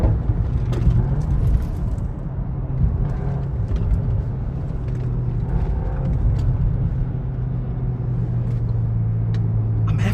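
A 2023 VW Golf R Mk8 with a 320 hp turbocharged engine and DSG gearbox drones steadily under hard driving, heard from inside the cabin, a continuous low rumble with faint crackles on the overrun.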